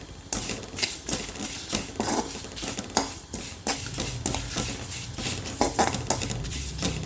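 Sesame seeds roasting in a dry pan for a coconut chutney give off dense, irregular crackling and sharp popping clicks close by, mixed with light metallic clinks of stirring.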